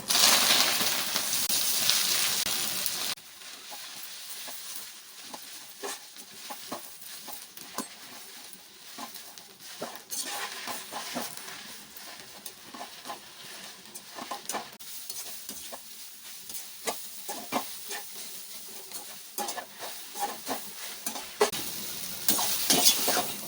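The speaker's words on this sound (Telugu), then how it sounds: "ఇది మళ్ళీ ఆయిల్ వేసుకొని వేపుకుంటాను." Washed and dried gongura leaves frying in oil, crackling steadily with a busy sizzle and a string of light stirring scrapes against the pan, continuous and close, with no talk.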